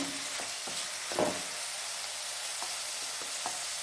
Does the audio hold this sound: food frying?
yes